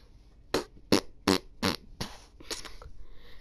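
A person blows a series of fart noises in LittleBigPlanet 3, about half a dozen short, close, spluttering bursts in an uneven rhythm, a voice mimicking flatulence rather than the real thing.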